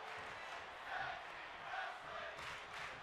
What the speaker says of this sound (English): the crowd's loving this one as tag team wrestling chants echo through the RCW fandom